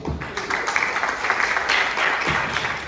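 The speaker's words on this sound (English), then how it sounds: "Could you please clap for Sakshi?" An audience applauds for Sakshi at a Rotary Club ballroom dance talk in Mumbai, a steady dense wash of clapping that carries on for about three seconds at moderate loudness.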